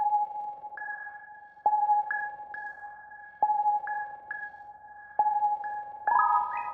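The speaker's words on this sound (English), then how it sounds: "I got a bell from this one-shot kit and it sounds like this." A synthesized bell one-shot from the Nebula kit plays a simple repeating pattern of clean, sustained tones, each struck note ringing on, ending in a brief strummed chord of several pitches, clear and isolated with no voices.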